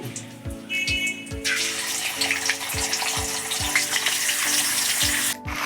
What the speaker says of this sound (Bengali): এখন আমি রুই মাছের মাথা দুটো ভেজে নিচ্ছি